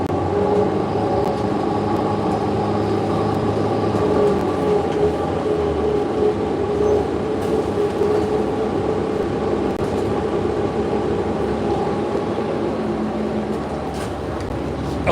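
Interior of a city bus on the D72 route in DC, a loud and steady rumble of engine and road noise with rattles and clatter that lasts throughout.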